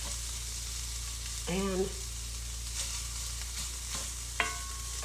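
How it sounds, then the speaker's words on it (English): Sausage gravy frying in a pan makes a steady, close sizzle, with a few brief utensil clinks and a single spoken word. "But figured I would just fry up some sausage gravy."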